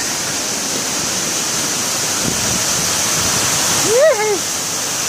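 A loud, steady rush of falling water from the Velo de Novia waterfall in Chiapas, Mexico, fills the scene continuously, with a brief voice-like sound briefly rising over it near the end.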